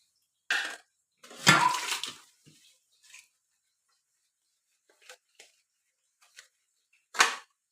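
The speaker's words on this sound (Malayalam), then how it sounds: "അപ്പോൾ ഈ പാത്രങ്ങളൊക്കെ ഒന്ന് കഴുകിയെടുക്കട്ടെ" Pots and dishes being washed by hand in a kitchen: a few separate bursts of water and clattering vessels, with long quiet gaps between them and a final splash.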